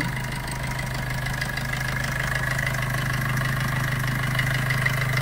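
A 2019 Maruti Suzuki Vitara Brezza VDI diesel engine idles steadily with a low, even drone and a faint knocking clatter, heard up close and alone for the whole stretch.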